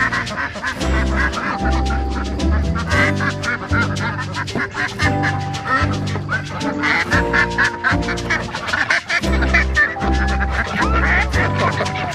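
Ducks being let out of their duck tractor quack loudly and continuously, a dense chorus of overlapping nearby calls in an uneven rhythm.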